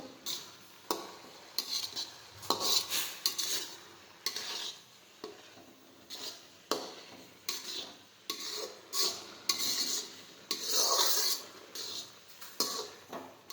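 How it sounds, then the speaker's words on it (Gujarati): A spoon stirring bottle gourd halwa in a pan, with gourd simmering as its water cooks off, giving repeated scraping and clinking strokes in an irregular rhythm, close and moderately loud. "ત્યાં સુધી આમને સતત ફેરવતા રહેવાનું છે."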